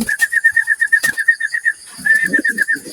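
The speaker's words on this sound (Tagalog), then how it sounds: "Ayan yung ating mga alagang kalapati na parami mga kaprobinsya." A rapid, rhythmic whistling call repeats in two runs, loud and close, with a few soft pigeon cooing and fluttering sounds underneath.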